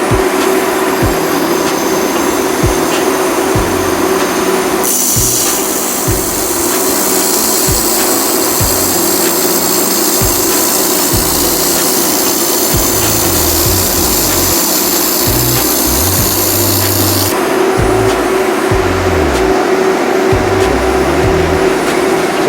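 An IPG LightWeld handheld laser welder runs with its wire feeder pushing filler wire, giving a loud, continuous machine drone with a stronger hissing stretch in the middle and no talk.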